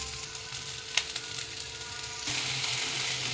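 Onion and greens sautéing in a pan, a close, steady sizzle with a few soft stirring knocks that swells into a louder, denser crackle partway through.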